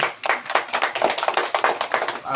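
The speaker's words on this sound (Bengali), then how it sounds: "হাততালি" Hands clap in a fast, steady run at a birthday cake cutting, the bright claps close, lively and continuing for the whole stretch with no one speaking.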